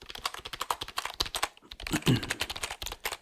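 Rapid, steady typing on a thocky computer keyboard, each keystroke a deep, rounded clack, close and clear with a continuous patter and no talking.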